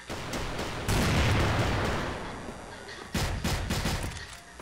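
A small gun fires in the video game CrossFire as a loud, dense burst of rapid shots, then a pause and another burst, with faint voices underneath.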